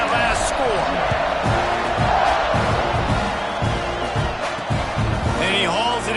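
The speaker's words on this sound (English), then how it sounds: "this crowd is buzzing after that last score" A stadium crowd in the college football video game NCAA 26 buzzes and cheers continuously after a score, a loud, dense roar running under a commentator's voice.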